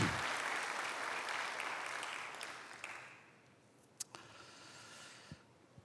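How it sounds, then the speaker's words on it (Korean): Applause from a church congregation fills the room at first and then thins out, leaving scattered claps and a few faint knocks as it dies away. "다 같이 박수."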